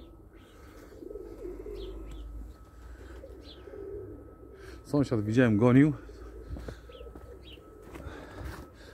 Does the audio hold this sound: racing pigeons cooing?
yes